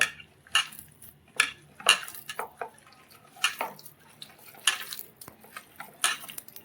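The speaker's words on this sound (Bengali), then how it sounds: "ছোট বাটিটা থেকে আমি বড় বাটিটায় ঢেলে নিলাম নিয়ে এটা ভালো করে মেখে নিচ্ছি" Coconut batter for coconut bora is mixed by hand in a large bowl, giving irregular wet squelches and light clinks against the bowl, close and moderately quiet with pauses between strokes.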